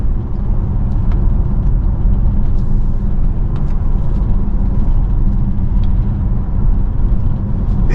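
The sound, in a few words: 2014 Audi Q7 3.0 TDI V6 driving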